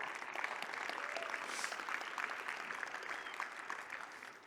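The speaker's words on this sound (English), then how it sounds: "So big applause also for them." Applause from a conference audience at a Vue.js developer event in Amsterdam, a steady crackle of many hands clapping that runs the whole time and eases slightly at the end.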